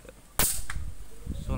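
A single sharp crack from a Java Maddox air rifle firing a slug on a windy day, loud and close, followed by a brief ringing tail and low wind rumble.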